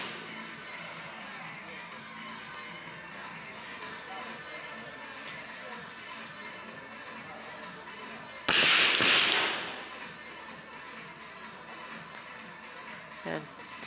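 A single sharp 50m rifle shot cracks out at a women's ISSF World Cup final in rifle 3 positions, loud against a steady hall murmur, followed by a faint smaller click near the end.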